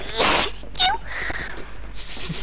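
One loud, close sneeze bursts out abruptly, then a short voiced tail and quieter indoor background noise.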